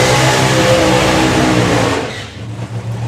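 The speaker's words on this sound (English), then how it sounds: "you can hear the other car do their burnout" Drag racing car doing a burnout at Santa Pod Raceway during the FIA European Finals, a loud sustained engine roar with screeching tyres that cuts off and fades after about two seconds.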